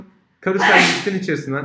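A single loud, close sneeze bursts out sharply from a person in the middle of a programming lesson, with speech following right after.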